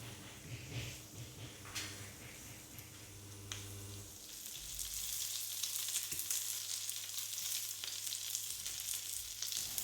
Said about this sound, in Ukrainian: Смажимо на середньому вогні до рум'яної скоринки.